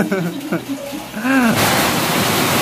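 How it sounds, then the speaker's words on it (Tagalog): Heavy rain pouring down in Tagaytay, a dense steady hiss that swells loud in the second half, with voices talking over the start. "Grabe ang lakas ng ulan dito sa Tagaytay mga tol."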